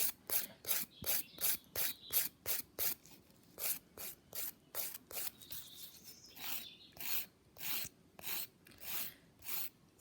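A nail file rasping over acrylic nail product to taper it, quick regular back-and-forth strokes with brief pauses, close and clear.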